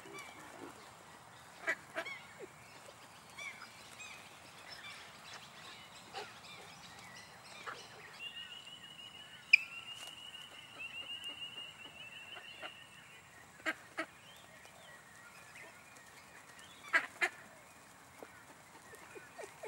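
Ducks give scattered quacks and honking calls while being herded by a dog, faint and intermittent against a quiet outdoor background, with occasional sharper knocks and a brief whistle-like tone.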